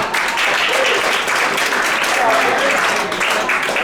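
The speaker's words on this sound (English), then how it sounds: "Give him a big round of applause." A theater audience at a magic show breaks into a big round of applause, a loud, continuous wall of clapping that fills the whole moment.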